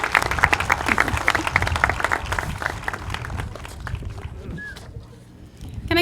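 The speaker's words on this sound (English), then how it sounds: "Can I get one more big round of applause for Gianna Lopez and Moise Chaudhry?" Middle school graduation crowd in a gym or auditorium claps loudly, with cheers and voices mixed in, then the applause thins and tapers toward the end.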